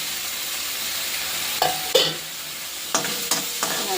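Tomato chutney with panch phoron and sugar stirred in a pan: a steady close sizzle broken by several distinct scraping strokes of the spoon.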